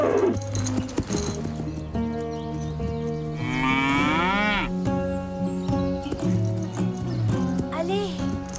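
A steer moos loudly and close in a farmyard, with long drawn calls rising and falling over the running noise of livestock, while people talk throughout.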